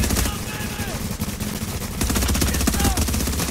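Rapid automatic gunfire bursts loudly and continuously in the video game The Division, with dense overlapping shots and faint voices underneath.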